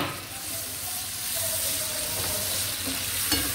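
Garlic frying in a pan for a farfalle pasta sauce gives a steady close sizzle and hiss with faint stirring scrapes, unbroken for a few seconds.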